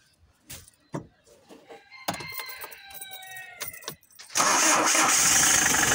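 A Hyundai H-100 van engine cranks and catches near the end, then runs loudly and steadily at idle, after some scattered handling noises and a few faint tonal chirps.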